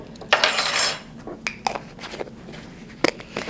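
A metal teaspoon clinks against a bowl or dish as a full spoonful of turmeric goes in, with a brief rustle first and then several sharp taps.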